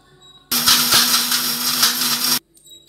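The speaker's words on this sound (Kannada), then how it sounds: "ಮಿಕ್ಸಿ ಮಾಡ್ಕೊಳ್ಳೋಣ।" Mixer blender whirring loudly for about two seconds as it blends milk with dry fruits and dates into a thick milkshake, starting and stopping abruptly against near silence.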